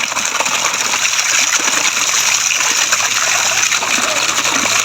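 Spring water flows and splashes continuously and loudly, a steady rushing gush close by with no break.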